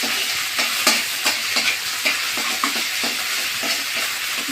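Kharkol leaf paste frying in hot mustard oil, stirred with a series of rhythmic scraping strokes over a continuous hiss and sizzle, close and alone.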